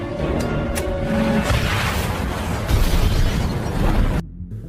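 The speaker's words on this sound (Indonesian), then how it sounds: "untuk menghabisi Samson hingga baku tembak pun kembali berlanjut." Gunfire and explosions in an action film: dense, loud bursts and booming blasts running continuously for several seconds, then cutting off abruptly near the end.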